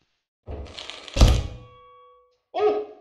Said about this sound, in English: What happens if I try to smack you?